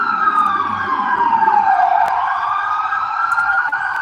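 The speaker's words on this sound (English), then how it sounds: "Hear the sirens? Hear the sirens?" A loud emergency siren wails, its pitch sliding down then rising again, with overlapping siren tones and traffic rumble beneath.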